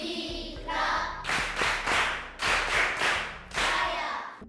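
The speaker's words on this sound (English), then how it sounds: "clap hands for yourselves." Young learners in a primary classroom clap their hands together in a few rhythmic bursts, close and loud, with brief pauses between the groups of claps.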